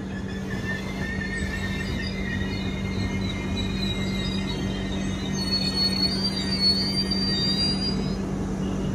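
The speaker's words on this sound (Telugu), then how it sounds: "మన ట్రైన్ చిత్తూరు చేరుకోవడం జరిగిందండి." Express train pulling into Chittoor station, a steady low rumble and hum with faint high wheel squeal rising toward the end, continuous and close without any talk.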